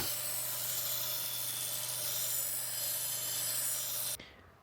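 A lawn mower blade is ground into a chef's knife edge, producing a continuous, harsh, steady grinding rasp at even loudness that cuts off abruptly just before the end.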